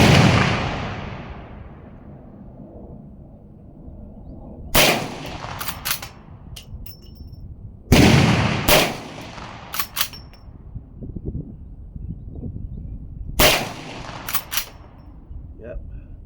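A Smith and Wesson 1854 lever-action rifle in .44 Magnum fires a few loud, sharp shots outdoors at 25 yards, each followed by a decaying echo, with handling noises between them.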